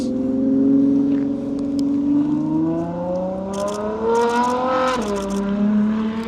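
A Ferrari engine drones steadily in the background, its pitch rising gradually and then dropping, with faint high clicks near the end and no voices over it.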